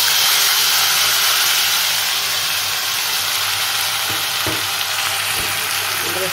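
Tomato paste hits hot frying masala with asafoetida for a stuffed baby eggplant dish, giving a loud, dense, continuous sizzle with a few dull stirring knocks near the end.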